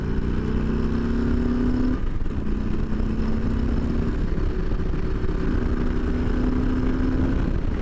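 A 2021 Harley-Davidson Street Bob 114 (FXBBS) motorcycle being ridden, its engine a steady, close, loud drone with a low hum that rises in pitch, drops, and climbs again, over constant wind rush, with no talking.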